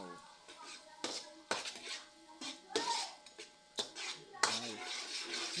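A utensil scrapes and clinks against a cooking pot in irregular strokes while a simple home dinner is stirred, close and fairly faint, with a voice talking quietly between the knocks.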